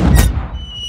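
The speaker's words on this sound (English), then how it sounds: "Right, let's fire the cannon." A cartoon cannon fires with a loud, booming blast that breaks out at once and then fades into a ringing, lingering tail.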